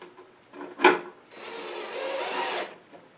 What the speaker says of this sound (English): it's just a matter of easing the screws in place